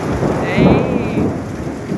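A storm in Kambalda brings a continuous hiss of rain with a low rumble of thunder rolling underneath, fairly close and steady, with no voices.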